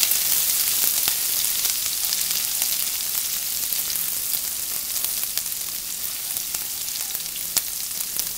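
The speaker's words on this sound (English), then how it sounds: "add the ginger that I finally minced up earlier, and the skinny chilies, and just let it fry up for like a few seconds" Minced ginger and thin chilies fry in hot oil, giving a bright, continuous close sizzle with scattered crisp pops throughout, loud and steady without any voices.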